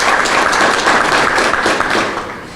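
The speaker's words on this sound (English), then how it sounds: "if we can give him a round of applause" An audience at a ribbon-cutting ceremony for a county police department's new facility claps in sustained applause, loud and dense throughout, tapering off slightly at the end.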